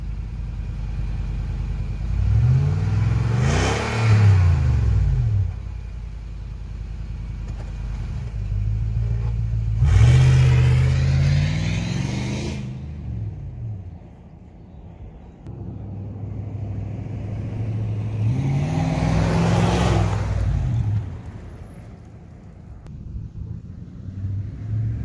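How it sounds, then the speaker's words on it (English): A Lexus GX470 with a 4.7L V8 and cat-back exhaust makes three accelerating passes, each a rising engine roar that swells as it nears and fades as it goes, with a steady idle hum between them. "I'll accelerate away and then I'll do a couple of passes under acceleration at about 25 miles an hour."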